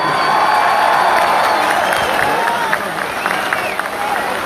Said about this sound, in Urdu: ایبٹ آباد کے لوگوں، ہاتھ کھڑا کر کے تالیاں بجاؤ ان کے جذبے کے لیے